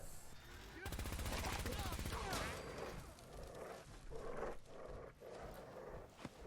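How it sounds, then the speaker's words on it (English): Gunfire against gunners inside a diner in the Fallout video game: a rapid burst of automatic fire followed by scattered shots and impacts, fairly quiet overall with some game noise behind. "open fire on these gunners"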